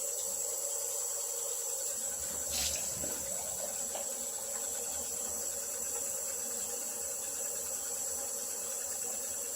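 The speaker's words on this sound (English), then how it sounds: "I'm going to rinse off." A bathroom tap runs steadily while rinsing after a shave, giving a continuous close hiss and splash with a brief louder splash near the start.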